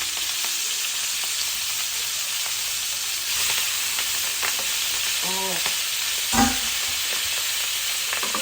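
Food frying in a pan while it is stirred, a steady sizzling hiss with scattered scraping strokes and one louder clatter near the end, close and without speech.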